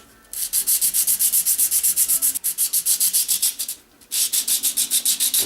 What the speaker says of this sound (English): sand the other side also to make sure it's still flat